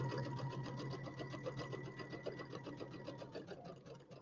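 A sewing machine runs steadily, stitching a seam on a St Patrick's Day settee pillow. The fast, even mechanical whir and needle rhythm continue throughout, close up and without speech.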